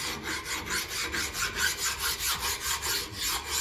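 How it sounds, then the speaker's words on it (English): A wire brush spun by a drill scrubs paint off Massey Ferguson 35 tractor metal parts, a loud, steady rasping scrape with a regular pulsing rhythm, close up and alone. "I'll hit that then with the wire brush on the drill."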